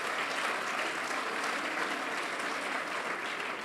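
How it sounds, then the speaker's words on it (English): Dense, continuous applause from a large audience at the Nelson Mandela Children's Hospital event, steady and full throughout with no break. "Can we applaud the fact that indeed it's happening in your lifetime?"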